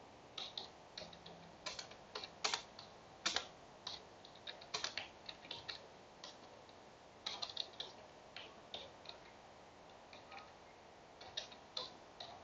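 Computer keyboard typing while writing Java code for a Fibonacci program in an editor: quiet, irregular key clicks in scattered bursts and pauses, close but soft over a steady background hiss.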